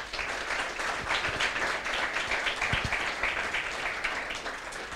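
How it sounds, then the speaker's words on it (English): Sustained audience applause at a startup technology conference in Belgrade, a dense, steady wash of many hands clapping throughout, fairly loud and continuous with no talk. "Let's give them all a round of applause"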